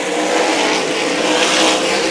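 Sprint cars roar around the Meridian Speedway dirt oval in a steady, loud, dense engine drone that swells and fades slightly as the pack circles, with no voices over it.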